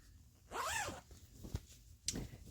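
A zipper on a handwoven huck lace pillow cover is pulled closed in one quick rising zip, followed by a couple of soft fabric handling clicks, close and quiet.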